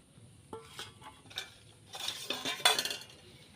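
Jalebi batter of maida flour is mixed in a bowl, giving faint, brief utensil clinks and scraping stirs that grow busier and louder toward the end in a quiet kitchen.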